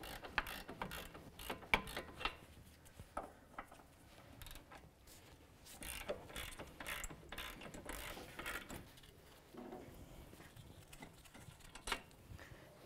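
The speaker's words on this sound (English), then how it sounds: "Millimeter socket, take the caliper bracket bolt from the knuckle off to" A socket ratchet clicks repeatedly while loosening a caliper bracket bolt from the steering knuckle of a 2005–2009 Subaru Outback, fast close-up ratcheting in bursts with brief pauses, fairly quiet overall.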